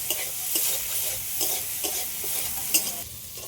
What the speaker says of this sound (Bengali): ডিম পাতাতে শাপলা ভাজা হয়ে গেছে এবার আমি লাগিয়ে নেব